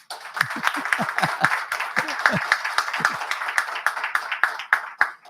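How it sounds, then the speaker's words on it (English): A small audience claps at a devotional program after a song performance, with individual hand claps audible as a loose, uneven patter that holds steady throughout, mixed with a voice and some low background murmur. "I think he deserves a little more clap than we gave him."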